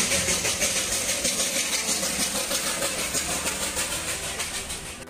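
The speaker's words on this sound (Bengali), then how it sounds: "এখানকার বিখ্যাত টয় ট্রেন।" The Darjeeling toy train runs along the hill road past Kurseong with a steady, loud rumble and a rhythmic chugging pulse that fades slightly toward the end.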